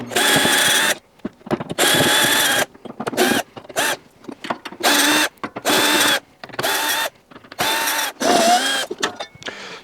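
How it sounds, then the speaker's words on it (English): Plastic parts rattle and clunk as the soap box is pulled out of a built-in integrated Bosch washing machine, several bursts of close scraping and knocking separated by short quiet gaps. "Next, we'll remove the soap box."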